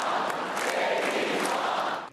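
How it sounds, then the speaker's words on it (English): A rally crowd cheers and chants in a dense, steady roar for JD Vance's mom, loud and sustained with no single voice standing out, fading slightly at the very end. "the crowd loved JD's mom as well, so much so that they chanted it"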